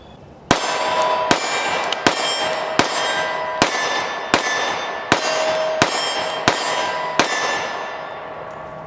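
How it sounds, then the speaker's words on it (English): A Sig P365 pistol fires 9mm rounds in about ten evenly spaced sharp cracks, each one followed by a short ringing tail. The shots are loud and close with no talking. "Now we're going to shoot the P365 in 9mm."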